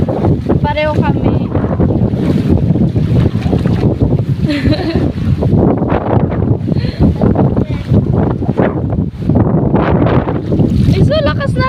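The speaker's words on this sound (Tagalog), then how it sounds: "Ay, so lakas na hangin." Strong wind blasts an outdoor microphone near the water during an outing, a loud continuous rumbling roar with gusts, as people talk and call out over it.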